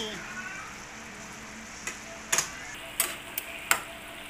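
Stingray simmering in coconut milk with red chili gets stirred in a pan, giving a continuous sizzle punctuated by several sharp utensil scrapes and taps against the cookware.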